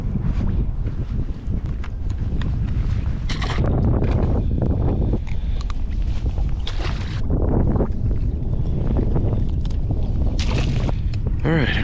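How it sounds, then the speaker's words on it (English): Strong, stiff wind buffets a fishing boat out on the water, a steady loud roar with gusty swells, joined by splashing and knocking sounds. "Alright, I can feel that wind picking up."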